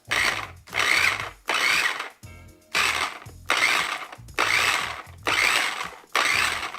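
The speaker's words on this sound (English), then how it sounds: "now we're going to put on the top and mix it all up" A plastic container of aloe vera hair mask is shaken vigorously with its lid on, giving repeated rattling, sloshing bursts in a steady rhythm of about one per second, close and loud, with a brief pause partway through.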